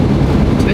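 Strong wind buffets a van driving along a fast, narrow road, a steady low roaring rush filling the short moment, loud and close.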